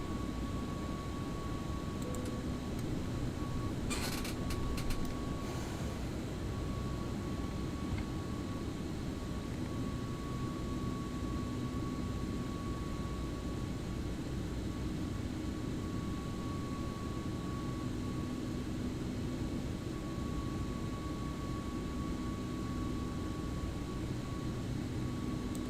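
An A321neo airliner climbs after takeoff in the X-Plane 11 flight simulator, producing a steady, even jet engine roar with a faint constant tone and one brief click partway through.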